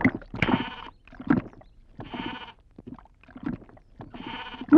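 A goat bleats several times in rough, wavering calls spaced about a second apart, close and clear with no talk, in a Telugu village film scene.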